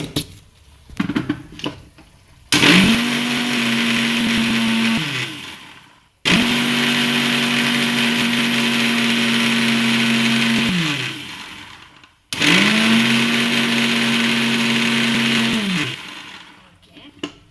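Mixer grinder grinding spice paste for a drumstick stir-fry, three loud whirring bursts of several seconds each, separated by brief pauses, close and dominant after a short stretch of handling noise.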